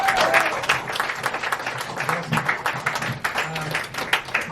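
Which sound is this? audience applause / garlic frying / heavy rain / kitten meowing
audience applause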